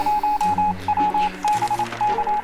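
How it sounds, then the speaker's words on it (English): In the survival game 60 Seconds, a Morse code signal sounds as a clear, high keyed tone tapping out long and short pulses in repeating groups over a low musical background. "Morse code."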